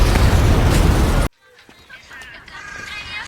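A house explodes in an action film with a loud, dense roaring blast that cuts off abruptly, leaving faint scattered debris and ambient sounds.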